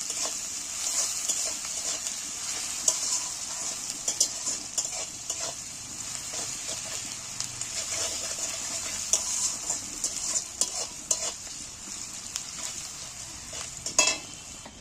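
Chopped onions frying with salt in a pan give a continuous bright sizzle, with frequent clinks and scrapes of a spoon stirring them, close and steady with no talking.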